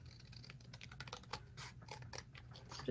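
A piece of cardboard being cut in half for a trash-craft puppet: a steady run of close, dry crackling and crunching ticks, fairly quiet and continuous, with no talking.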